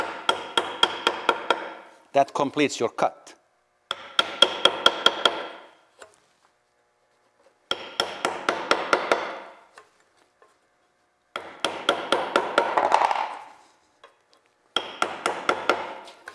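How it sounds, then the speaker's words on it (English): A cabinet maker's scraper is hammered into a dovetail cut for a drawer, giving six close bursts of rapid metallic taps separated by short pauses, with a brief spoken remark. "just the scraper you hammer in there"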